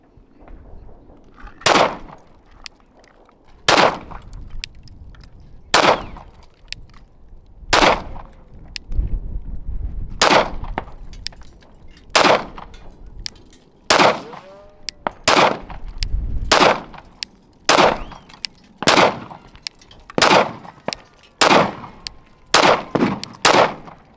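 Glock 43X pistol firing 147-grain rounds with a stock guide rod: about fifteen loud, sharp gunshots spaced roughly a second or more apart, each ringing briefly outdoors, with no talk between them.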